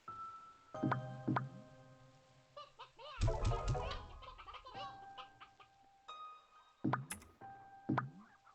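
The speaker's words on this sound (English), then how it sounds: "I got tons and tons of hens though." Hens in the video game Slime Rancher 2 cluck in scattered short bursts, with a busier flurry of overlapping clucks and squawks in the middle, close and clear over quiet background tones.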